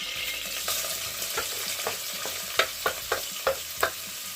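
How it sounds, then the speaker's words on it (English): Boneless chicken strips sizzle steadily in a hot pan, with a series of sharp utensil clicks and scrapes growing more frequent near the end. "I'm just going to be frying this"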